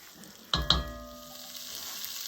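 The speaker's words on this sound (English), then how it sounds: "I'm just trying to brown it up a little bit." Beef for a homemade stew browns in a skillet with a steady, soft sizzle, jumping briefly with two quick clatters or pops near the start before settling back to a quiet hiss.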